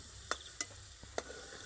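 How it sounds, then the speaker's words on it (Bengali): Potato pieces frying in oil in a wok give off a soft, quiet sizzle, broken by three or four sharp clinks of a utensil stirring them. "আলু যখন তেলে এরকম লালচে লালচে করে ভেজে নেবেন না তখন তরকারির স্বাদটাই পুরো বদলে যাবে"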